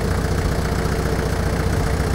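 A car engine idles steadily during a clutch check, a dense, even mid-to-low rumble held at a constant level without talk.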